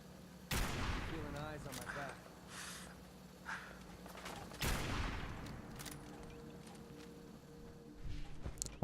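Gunfire in the video game Fallout 4, with two sharp shots several seconds apart and smaller pops between them, over game ambience and someone talking.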